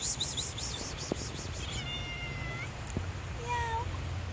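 A cat meows repeatedly outdoors at night by the sea in Acre, Israel, with short rising and falling calls over a constant background hiss, fairly close and clear without talk.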